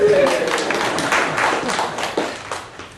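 Comedy club audience at a lounge clapping, a scattered patter of many hands at moderate volume that thins out toward the end, with some talk running underneath.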